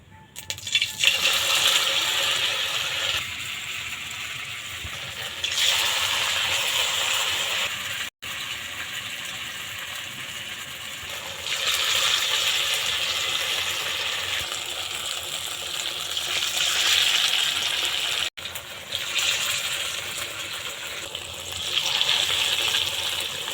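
Shapla-rice fritters slide one after another into hot oil in a wok, giving a loud sustained sizzle and bubbling that swells and dips in waves, with brief breaks between additions.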